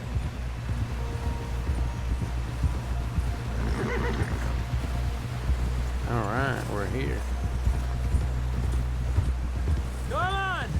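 Horses in Red Dead Redemption 2 clip-clop steadily through cold, windy snow, with a few close whinnies and neighs breaking through while characters talk over the hoofbeats.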